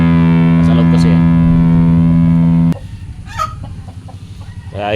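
A strong steady electronic hum dominates before cutting off abruptly, after which chickens on a rural farm cluck and call faintly in the background.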